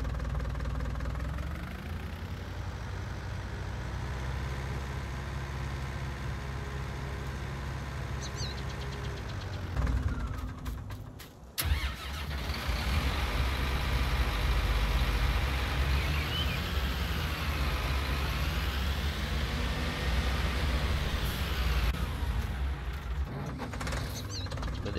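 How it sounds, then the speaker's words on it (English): A tractor engine in Farming Simulator 19 idles and runs with a steady, knocking diesel drone, briefly cutting out before revving back up a little louder and continuing without pause. "The vehicles have really nice sounds, I must say."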